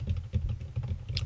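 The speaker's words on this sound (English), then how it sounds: "the sound of the nurse tapping away on his computer" Rapid computer keyboard typing in a video game, a dense flurry of close, clicky keystrokes in an uneven rhythm with no voices.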